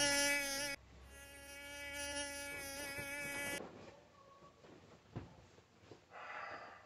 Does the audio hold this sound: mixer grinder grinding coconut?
no